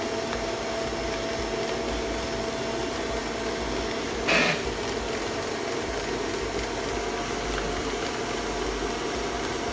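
An electric mixer creams butter and icing sugar in a bowl, giving a steady, fairly loud motorized whir that holds constant throughout, with one brief scraping knock midway.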